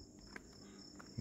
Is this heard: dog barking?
no